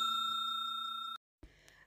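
A clean electronic notification chime rings with a bright, sustained tone for about a second, then cuts off, followed by a brief soft click and faint tail.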